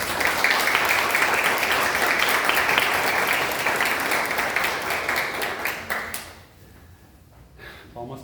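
Audience applause after a spoken talk at a gathering, dense sustained clapping from many hands that fades out after about six seconds, leaving near quiet with a few scattered claps.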